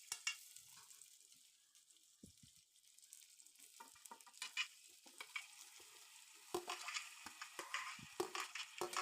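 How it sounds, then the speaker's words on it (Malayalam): Chopped tomato and onion frying in a pan while being stirred, a soft hiss punctuated by scraping, clattering stirs that grow busier toward the end, with no voices. "ഇനി നമുക്ക് അരിഞ്ഞു വെച്ചിരിക്കുന്ന ടൊമാറ്റോയും സവാളയും ഇട്ട് കൊടുക്കാം."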